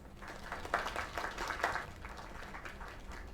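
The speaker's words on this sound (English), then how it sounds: "Another round of applause." Applause from a small crowd in the video game Lake, a soft, even patter of clapping that stays faint and steady throughout, with no one speaking over it.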